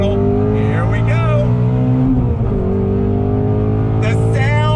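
A 2020 Ford Shelby GT350R accelerates hard in first gear, its loud, close engine rising steadily in pitch while someone talks over it from inside the car.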